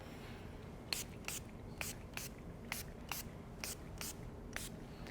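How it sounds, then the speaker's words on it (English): Hydration spray mists onto a face in about ten short, quiet pumps, each a crisp airy hiss, spaced roughly half a second apart. "don't be afraid to give your skin a good soaking with the hydration spray"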